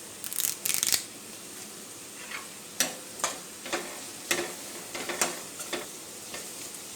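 Curry leaves frying in oil in a pan for green peas curry, with a sizzling burst at first followed by a series of light, evenly spaced scraping stirs, close and fairly quiet.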